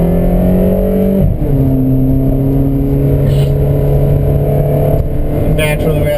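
A 2012 Ferrari California moves through town traffic, its engine a steady, loud drone from inside the cabin with smooth gear-change steps in pitch.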